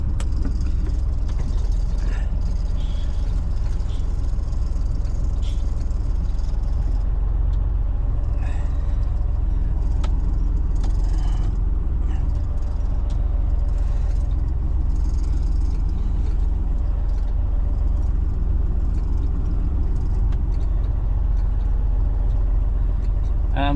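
A Mercedes-Benz 1222AF overland truck creeps along in first gear, its heavy diesel engine droning loud and steady throughout, with faint clicks and rattles over the low rumble.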